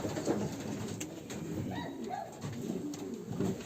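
Breeding-pair racing pigeons coo in soft, throaty bursts close by, several birds overlapping, against a steady outdoor rumble.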